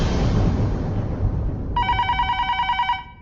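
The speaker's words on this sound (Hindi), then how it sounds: "फिर से फोन," A telephone bell rings in rapid repeated trills, loud and close, starting partway through after a burst of broad noise.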